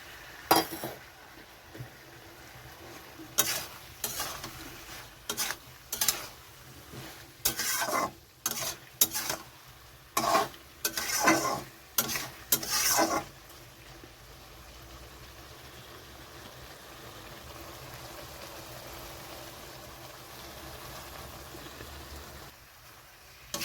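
Soaked mustard paste cooking in a pan with ash gourd and shrimp: steady sizzling and frying, with a run of scraping spatula strokes against the pan early on, then a quieter even sizzle.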